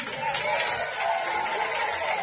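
A crowd at an anti-vaccine political speech cheers and applauds loudly, a continuous roar of clapping and shouting with a faint chant rising through it, no single voice standing out.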